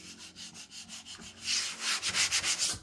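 Sandpaper of 220 grit rubbing over a car body panel in a shop, a run of quick rhythmic scratchy strokes that grows louder and more vigorous partway through, close and alone.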